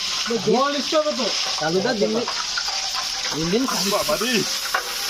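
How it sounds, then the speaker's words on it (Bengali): Rice poured into hot oil for biryani, giving a steady crackling sizzle that runs throughout, with voices talking over it. "এবার ওটাই চালটা ঢেলে দেওয়া হবে"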